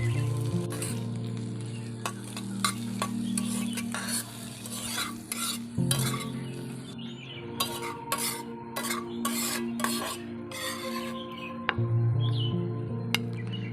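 Ingredients for a thankuni leaf paste fry and are stirred in a pan, giving a steady sizzle under repeated scraping and clinking of a utensil against the pan, with no one talking.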